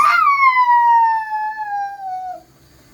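A voice imitates a fire truck siren in a single loud, drawn-out wail that slowly falls in pitch and fades after about two and a half seconds.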